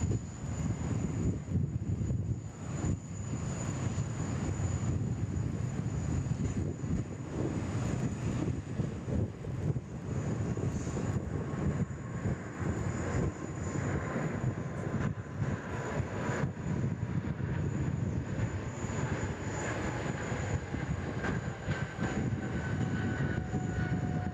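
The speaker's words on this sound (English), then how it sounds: "we've got a 777 on the roll here. 3-4 left. It's the Air Canada, the mint livery." An Air Canada Boeing 777 in mint livery rolls down runway 34 left at Sydney Airport, its engines roaring steadily and loud for the whole stretch with a rising whine, no voices over it.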